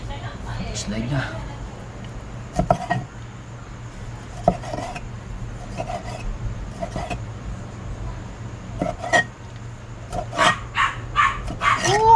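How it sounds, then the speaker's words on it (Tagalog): Scattered barks from a nearby neighbour's dog ring out, thickening into a quick run of yaps near the end, over steady voices and clinking pots and utensils in a kitchen. "Sa kanino ba aso yun?"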